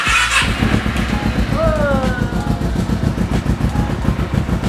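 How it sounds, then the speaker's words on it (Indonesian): A restored carbureted motorcycle engine fires up after a short loud burst, then settles into a steady, close, low rhythmic idle for several seconds. "Sukses, Temi nyala lagi"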